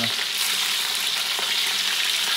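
Chicken toge frying in a pan of oil, a dense, even, loud sizzle and crackle holding steady throughout with no talking.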